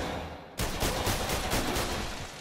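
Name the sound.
gunshots at a shooting range in a PlayStation VR game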